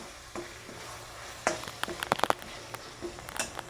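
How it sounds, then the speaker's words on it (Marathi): Garlic frying in oil in an iron wok gives a low steady sizzle, broken by a burst of sharp scraping and clinking stirring strokes in the middle, close and fairly quiet. "याला तेलमध्ये चांगलं फ्राय करून घ्यायचं, कच्च्या लसणाचा वास निघून जाईपर्यंत"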